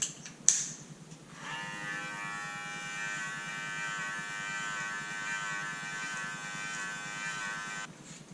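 Electric hair clippers fitted with a number 3 guard start with a click, then run in a steady, close, high-pitched buzz for several seconds before switching off.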